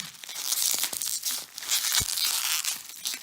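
Packaging of a Degustabox subscription food box being cut and torn open at close range, with continuous loud crinkling, tearing and rustling and no talking.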